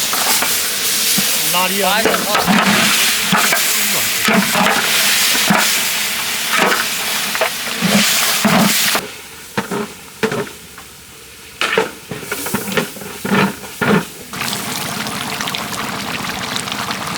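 Beef being cooked with spices in a large pot for a big batch of tehari, with loud continuous sizzling and repeated stirring and scraping that drops back briefly before resuming, while people talk over it.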